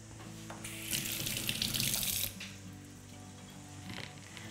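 Tap water runs into a sink while vegetables are washed beneath it, a quiet steady splash that swells louder for about a second before easing back to a softer trickle.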